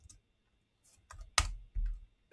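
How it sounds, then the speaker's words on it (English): Trade values being typed on a computer keyboard, a few close, distinct keystrokes ending in two heavier thumps, likely the space or enter key, in a quiet room with no talk. "we're going to go ahead and type it in."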